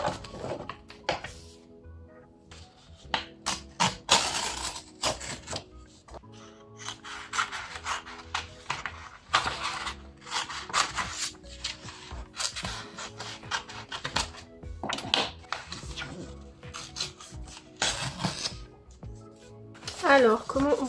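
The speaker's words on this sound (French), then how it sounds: "Ça, il faut que je le découpe." Scissors cut paper for a scrapbook close by, with irregular rubbing and snipping strokes and small thunks on a tabletop.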